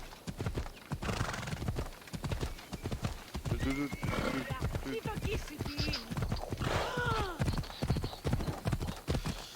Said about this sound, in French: Allez, cours mon petit cheval.